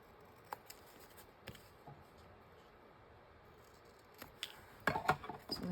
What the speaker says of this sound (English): I'm going to just cut the corners off of that with scissors a little further.